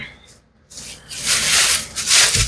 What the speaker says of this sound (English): Wrap them up here so they don't scuff up.